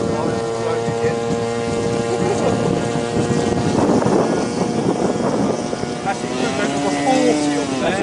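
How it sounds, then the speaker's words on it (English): A 4-cell electric RC model aeroplane motor with about a 40 size setup, running at a flying field: a loud, steady whine with strong wind noise on the microphone, and voices talking over it. "That's a lot of motor and not a lot of aeroplane."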